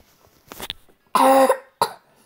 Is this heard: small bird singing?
no